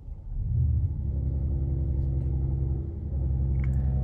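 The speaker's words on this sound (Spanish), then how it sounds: "así prende el AMG GT53 único en Colombia" A Mercedes-AMG GT53 four-door sedan starts up, a low engine rumble swelling quickly and settling into a steady, fairly quiet idle heard close by without talking.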